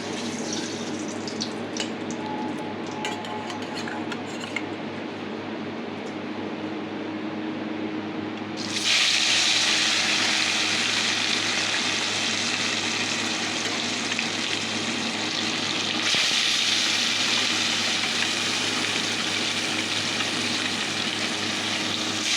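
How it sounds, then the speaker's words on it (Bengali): Fish frying in oil in a wok (kadai), a steady broadband sizzle that jumps much louder partway through as pieces go in, continuing loud and close with no talking. "চলো মাছগুলো ভেজে নেই"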